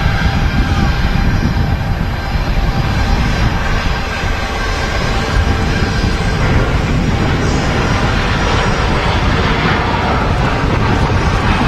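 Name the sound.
Ryanair Boeing 737-800 jet aircraft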